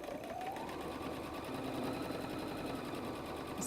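A sewing machine back stitches a messenger bag strap with a 1/4 inch foot at a 2.5 stitch length, giving a steady, close, continuous whirring run with no talk.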